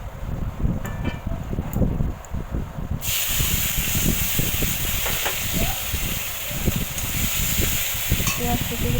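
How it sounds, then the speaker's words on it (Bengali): Chopped onions fry in oil already seasoned with whole cumin, dried chillies, bay leaf and whole garam masala, a hissing sizzle that jumps louder a few seconds in over a low murmuring background. "ভাজার পরে পেঁয়াজ কুচি দিয়ে দেব।"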